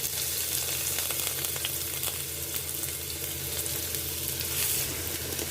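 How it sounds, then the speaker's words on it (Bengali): Crushed garlic cloves and chopped onion hit hot oil in a pan, giving a loud, dense, continuous crackling sizzle that stays close and steady throughout, with no talking. "চার পাঁচ কোষ রসুন ছেঁচে নিয়েছি থেতো করে নিয়েছি এবং দু টেবিল চামচ পরিমাণ পেঁয়াজ কুচি দিয়ে দিলাম"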